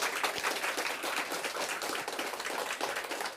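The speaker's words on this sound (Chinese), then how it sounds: "拍手" An audience in a temple hall at a Lunar New Year Buddhist dharma talk breaks into applause, a dense, steady wash of many hands clapping at an even level throughout, with no talking.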